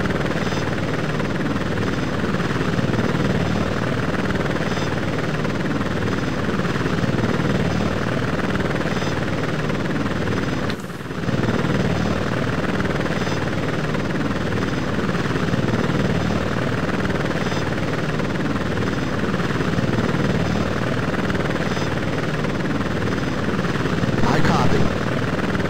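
An Apache Longbow helicopter in a flight simulator video game, a dense steady rotor and turbine drone that fills the whole stretch with one brief dropout, while a voice speaks over it.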